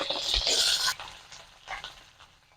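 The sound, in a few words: fennel and onion petals frying in hot ghee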